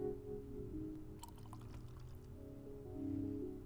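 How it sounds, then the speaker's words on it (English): Brandy is poured into a glass behind a bar in The Red Strings Club, a short faint trickling splash of liquid over quiet background music. "Pour her a drink."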